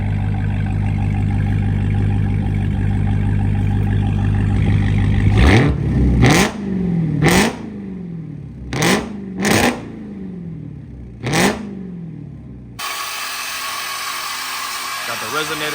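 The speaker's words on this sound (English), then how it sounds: "Now he's gonna rev it." A Dodge Hellcat with a mid-muffler delete idles with a deep rumble, then is revved in six sharp blips, each surging and falling back, before a different harsh, noisy sound takes over at the end.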